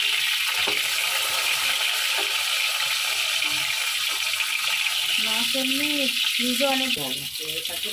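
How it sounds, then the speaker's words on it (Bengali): Pomfret fish frying in oil, a continuous loud sizzle throughout, with a person talking over it in the second half. "এখানে সমস্ত মাছগুলো আমি ভেজে নিচ্ছি"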